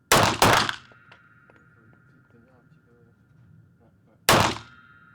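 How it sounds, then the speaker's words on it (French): Two sharp pistol shots from a .45 fired at a target ring out close together, then a long quiet stretch with faint background murmuring, and a third loud shot lands near the end. "pour cette grande première au pistolet, j'ai mieux réussi avec le 45"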